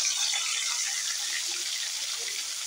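Turmeric- and chili-coated fish pieces go into hot oil one by one, giving a steady, fairly quiet sizzle and crackle of frying that stays even throughout.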